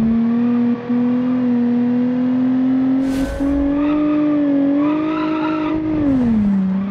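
A car engine in the BeamNG driving game holds a steady, loud drone that climbs and sags in pitch as the driver revs and accelerates, with a brief tyre scuff midway and no talking.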